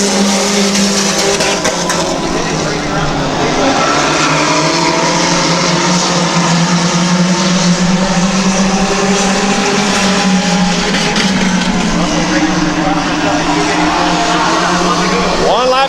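Race cars roaring around Midvale Speedway during a race, a loud, continuous engine drone with shifting pitch as cars run side by side, while an announcer talks over it.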